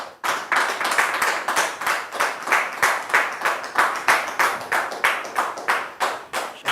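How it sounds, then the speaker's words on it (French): An audience applauds at a church gathering to welcome a guest. Rhythmic, fairly close clapping keeps up at a steady pulse for several seconds with no voices. "sous vos applaudissements, bien sûr."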